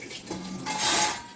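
Pots and dishes clatter and scrape during washing up after a meal in a home kitchen, with light clinks of metal utensils and a soft wash of running water, close and moderately loud.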